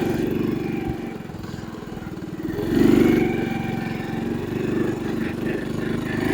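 A 1985 Honda ATC 110 trike's small engine drones steadily while being ridden, loud and close, with a brief swell in revs about midway before settling back to an even run.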